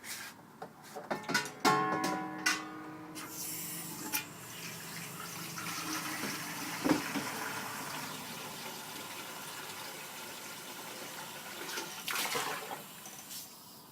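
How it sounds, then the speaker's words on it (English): Tap water runs into a container at a kitchen sink while soap is being made, a steady close rushing stream with clattering and handling knocks near the start, then filling on continuously with small bumps along the way. "So I'm going to go to the sink and add my water."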